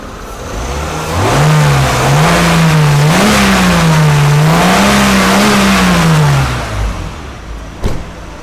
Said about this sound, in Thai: เดี๋ยวผมจะลอง เล่นเครื่องนะครับ ให้ฟังครับ